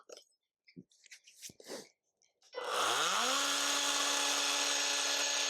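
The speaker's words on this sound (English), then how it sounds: "I found this old Makita multi-tool thing kicking about. So it's got like a blade, just a wee fine blade on it, and it reciprocates." An old Makita reciprocating multi-tool with a fine, worn blade starts up after some faint handling noises and runs loud and steady, its buzzing motor whine rising to a constant pitch close by.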